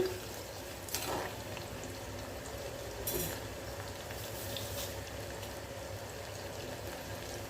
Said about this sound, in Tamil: இப்போ பூண்டு வதங்கி வரட்டும்